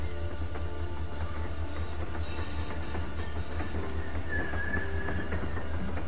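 A train rolls steadily along in The Walking Dead (Telltale) game, a continuous low rumble with faint rhythmic clatter and a brief metallic squeal, with no breaks throughout.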